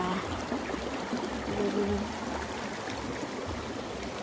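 Rain-swollen village stream rushing steadily through a channel, a continuous close broadband wash of flowing water with people talking faintly over it.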